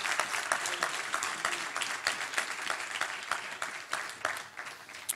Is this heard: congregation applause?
yes